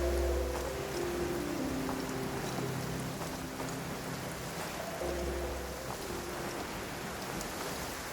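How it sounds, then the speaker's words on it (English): Steady rain pours down in a heavy downpour in the video game Genshin Impact, a dense continuous hiss with soft low musical tones underneath, even and unbroken throughout. "Taking a stroll in the middle of a downpour certainly rouses the spirit."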